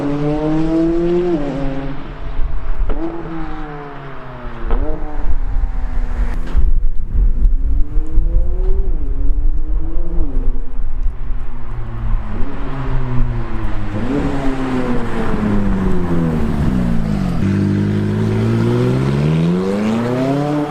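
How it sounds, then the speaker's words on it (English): A McLaren 570S sports car engine revs hard and accelerates, its loud rising and falling pitch sweeping up through several gear changes with a brief lift in between, close and dominant with no talking. "this car does sound really quite cool"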